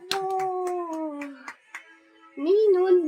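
A small pet dog whimpers and gives howling, whining calls during a birthday celebration, long drawn tonal cries near the start and again at the end, with a short gap between them, with no people talking over it.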